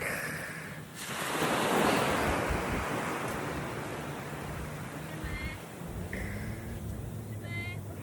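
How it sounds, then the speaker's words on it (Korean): Ocean waves wash onto a beach in Busan, a broad steady surf roar with wind buffeting the microphone, swelling early and then holding, while people talk briefly in the background. "파도 소리."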